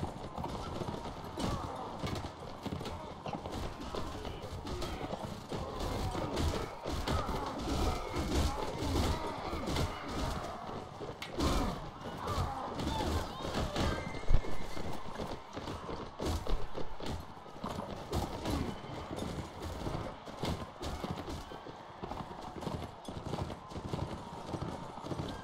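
Horse hooves clip-clop steadily throughout a Mount & Blade: Warband tournament, a dense, continuous galloping rhythm mixed with clanking game sounds and an occasional whinny, loud and close for the whole stretch.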